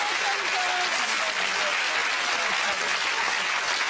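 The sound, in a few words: studio audience applause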